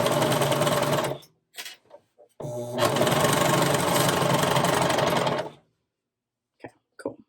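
A domestic sewing machine stitching along a crew neck sweatshirt edge, two bursts of fast, steady whirring separated by a short pause, loud and close, with brief clicks and handling noises after it stops.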